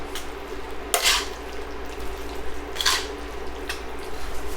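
Fettuccine noodles being stirred into a chicken and broccoli alfredo sauce in a pan, with a soft wet simmer underneath and a few sharp scraping clinks of the utensil against the pan.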